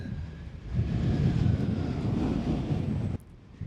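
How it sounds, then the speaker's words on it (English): A strong wind gust roars against the microphone on an open roadside, a loud, buffeting low rush that swells, holds and then suddenly drops away. "Here comes another gust."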